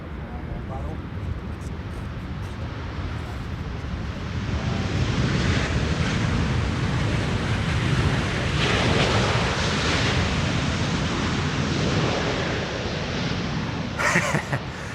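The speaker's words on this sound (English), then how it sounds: "wind has been 50 knots all throughout the show thus far from the west" A strong 50-knot west wind at Amsterdam Schiphol airport makes a loud, continuous broadband rush and roar that swells slightly midway and keeps going without pause.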